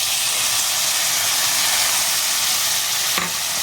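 Black chana tossed into a hot pan with golden-browned garlic, giving a loud, steady sizzle and hiss throughout, with a brief clatter near the end.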